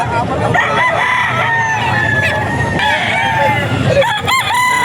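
A Bulik gamecock rooster at a fowl seller's stall in Bocaue crows loudly and close, with clucking and other birds around and people talking in the background.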